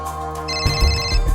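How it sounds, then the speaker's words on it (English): A telephone rings inside a video game, an electronic ringtone trill sounding loud and close over a low steady background hum. "Oh, looks like the phone's ringing."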